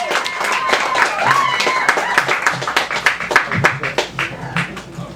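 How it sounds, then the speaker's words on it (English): Audience claps for a poet at an open mic night, a burst of scattered hand claps with voices over it, fading into individual claps as the room settles. "Big round of applause."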